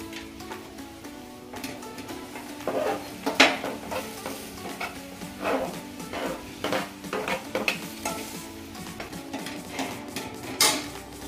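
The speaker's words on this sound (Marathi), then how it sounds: "आता मी परत एक कढई घेतलेली आहे, त्याच्यामध्ये आता आपल्याला गूळ टाकायचा आहे" Chikki jaggery being added to a kadhai and stirred for sesame tilgul, heard as a steady scraping and stirring with occasional sharper clinks of a spoon against the metal pan, close and clear with no talking.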